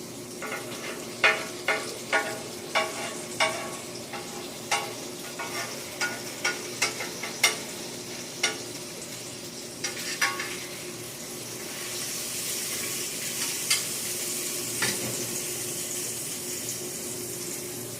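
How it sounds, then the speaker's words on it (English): A burger fries on a hot flat griddle with a steady sizzle. A spatula gives a run of sharp, evenly spaced taps and scrapes, then the frying hiss swells louder toward the end. No one speaks over it. "You take your burger and you flip it."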